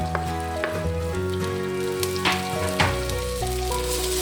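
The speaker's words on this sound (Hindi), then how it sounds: "घी चूँकि हमारा गर्म है, इसमें ये प्याज डालेंगे।" Chopped onion frying in hot ghee, a steady close sizzle and crackle with a few louder pops and stirring scrapes throughout, no voices.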